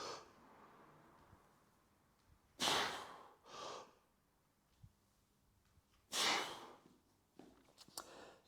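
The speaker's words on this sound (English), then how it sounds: "Take a breath in, brace." A person takes two sharp, forceful inhalations through the nose, bracing before a barbell Zercher squat, with quiet pauses between and a few faint shuffles and small knocks nearby.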